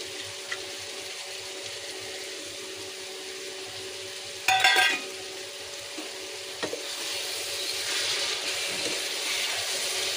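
Peas and cauliflower florets fry in masala, a steady close sizzle running throughout with a brief louder burst of crackling as the peas go into the pan.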